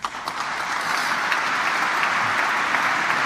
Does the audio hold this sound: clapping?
yes